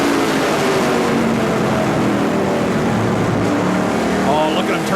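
Stock car engine at full throttle heard from an onboard camera during a NASCAR-style race, a loud, steady, continuous roar that holds through the whole stretch with a commentator talking over it.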